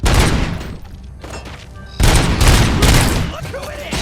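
Loud bursts of automatic gunfire from the RoboCop: Rogue City video game come in heavy, rapid volleys, easing off briefly before a second, harder burst of shooting.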